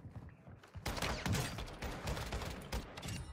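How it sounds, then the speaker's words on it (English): Rapid bursts of gunfire from the Warzone 2 video game on Ashika Island crackle close and loud in dense clusters after a quieter opening, with shots overlapping in quick succession. "Nice shots."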